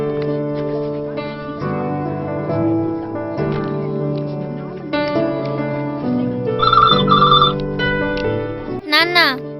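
A telephone rings in repeated bursts in a Telugu film scene, heard under music and voices, with a brighter electronic tone near the end.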